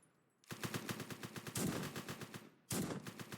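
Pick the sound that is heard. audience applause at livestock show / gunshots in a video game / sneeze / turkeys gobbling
gunshots in a video game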